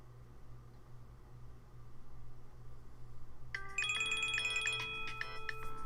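A phone ringtone starts partway through, a bright electronic melodic ring over a low steady hum in a room where someone is oil painting, moderately loud and continuing to the end.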